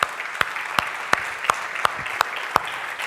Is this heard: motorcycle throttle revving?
no